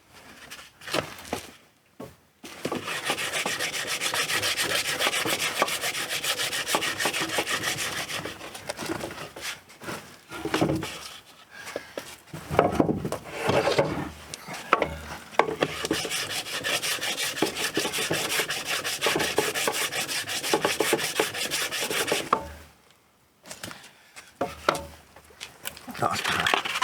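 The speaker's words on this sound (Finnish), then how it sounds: "Otetaan vähän tuntumaa tähän hiomiseen ensiksi ja katsotaan kuinka tää lähtee sujumaan." Hand sanding along a sailboat keel with coarse 60-grit paper, a steady rasping rub in long continuous strokes with a few short pauses, close and fairly loud.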